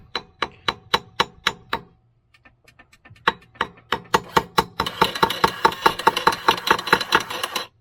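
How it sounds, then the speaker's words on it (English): An outboard motor's trim motor is struck with a series of sharp metallic taps in a steady rhythm. A brief pause follows, then more taps, and finally a harsher mechanical whir under continued taps, all close up. "let me tap this trim motor right here"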